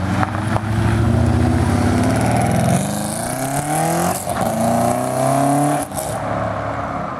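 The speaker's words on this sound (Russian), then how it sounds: "Тот же самый выхлоп, та же самая система, вот эта, она там заколхожена, она слишком шумит" A BMW E34 540i V8 with a noisy, crudely modified exhaust rumbles loudly and steadily up close, its deep drone rising and falling with throttle, no speech over it.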